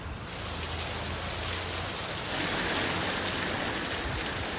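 A heavy downpour in Vasai Virar makes a dense, unbroken roar of rain that swells slightly midway and stays loud and close throughout, with no voices.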